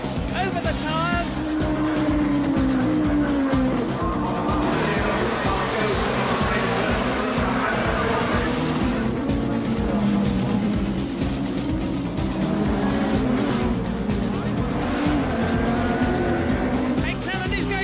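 GT3 race cars at Barcelona in a sim racing game roar steadily as they run, engine pitch climbing and falling through gear changes, under a commentator talking continuously.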